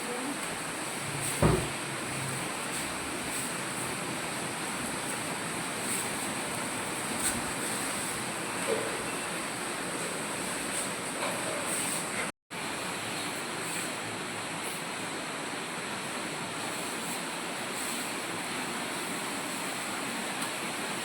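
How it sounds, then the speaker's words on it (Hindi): Heavy rain falling outdoors, a steady broad wash of noise that stays constant throughout, with no voices. "इतने बारिश तेज है ना।"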